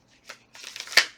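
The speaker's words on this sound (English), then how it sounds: "I'm going to go ahead and give it another shuffle" A deck of oracle cards being shuffled up close, a couple of short papery riffling bursts with a brief pause between them and no voices.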